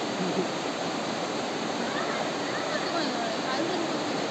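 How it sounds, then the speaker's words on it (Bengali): Near Devkund by a temple, a waterfall flows with a steady, unbroken rushing roar that stays even and fairly loud throughout. "ওই দূরে ঝর্ণার উপরে দেখা যাচ্ছে অম্বিকা মায়ের মন্দির।"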